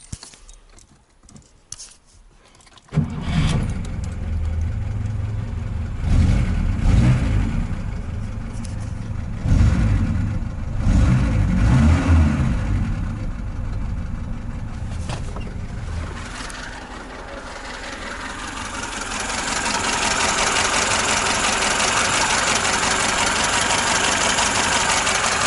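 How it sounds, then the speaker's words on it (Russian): A Lada VAZ-2106 engine with contact ignition idles roughly and unevenly close by, its rumble surging and dipping before settling into a steadier, louder drone. "Двигатель работает как-то неустойчиво."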